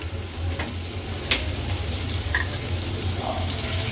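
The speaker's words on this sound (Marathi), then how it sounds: "तेल गरम झालं की आपण फोडणीला सर्वात आधी आलं लसूण आणि मिरचीचा क्रश ऍड करूया" A ginger, garlic and green chili crush sizzles in hot oil in a pan, a soft, steady frying hiss with a few faint clinks and a low hum running underneath.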